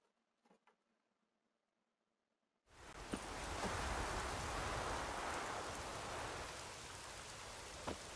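Rain in the video game The Witcher 3 begins abruptly after a quiet stretch, becoming a steady, dense hiss of rainfall that holds for about five seconds, with a couple of faint clicks and no speech.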